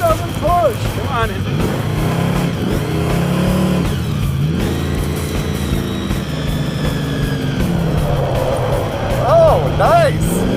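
The Draguar, a blower-equipped drag car, accelerates hard while smoking its tires, its engine roaring continuously under excited talk from onlookers.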